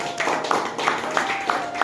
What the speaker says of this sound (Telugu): వారు బహుకరిస్తుండగా చప్పట్లు తప్పండి.